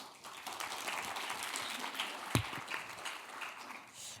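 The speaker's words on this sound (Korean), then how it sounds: "큰 박수로 모시도록 하겠습니다." A seated audience at a Seoul future conference applauds to welcome a film director giving a talk. The clapping is moderate and continuous, with one sharp thump midway, and it fades toward the end.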